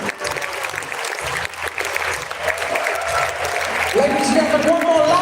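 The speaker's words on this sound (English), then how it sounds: "big round of applause for the performers of the Curse of the Crimson Seal" Theatre audience applauding the performers of a showcase stage production, steady loud clapping throughout with a host's voice and music rising beneath it toward the end.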